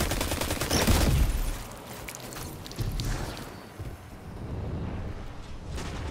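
Heavy gunfire in the video game Destiny's Pit of Heresy dungeon as a wall is shot: dense, loud bursts of rapid shots and blasts opening the passage, easing into sustained rumbling fire and echoing impacts.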